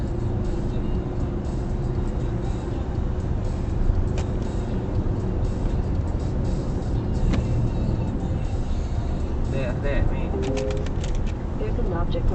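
Congested road traffic in a jam at Cibubur, heard from inside a car through a dashcam, gives a steady low rumble of engines and tyres, with a voice breaking in now and then over the continuous hum.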